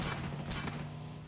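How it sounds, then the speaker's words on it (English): A brief burst of video game gunfire, a few sharp shots over a dense, steady background. "getting some gunshots"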